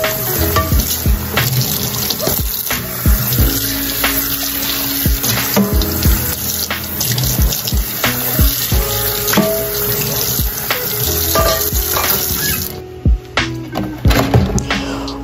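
Running tap water splashes into a dish pan while dishes are washed with Palmolive Ultra Soft Touch dish liquid, with steady gushing, clinks of plates and silverware, and clatter near the end as the flow stops.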